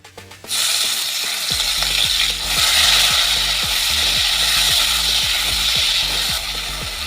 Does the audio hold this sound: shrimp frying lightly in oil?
yes